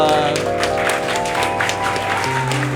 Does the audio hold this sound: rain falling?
no